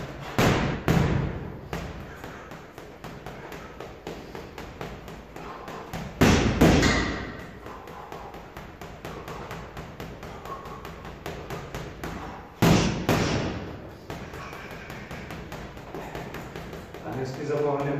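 Punches and kicks land on a heavy punching bag during a home workout, heavy thuds standing out at intervals over shuffling footwork and lighter taps, with a coach's voice talking throughout.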